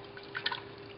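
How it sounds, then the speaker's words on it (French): Canned coconut milk poured into a pot of Tom Ka soup, a brief, faint liquid splash and drip lasting under a second against a quiet kitchen background. "je vais ajouter mon lait de coco"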